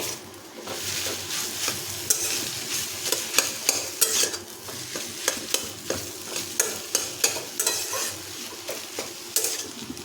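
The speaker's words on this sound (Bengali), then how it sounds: "এখন আলুর সাথে এটা খুব ভালোভাবে মেশাতে হবে।" Fried banana flower is stirred together with mashed boiled potato in a pan. A spatula scrapes and knocks in a quick, uneven rhythm over a constant close sizzle, and no one talks.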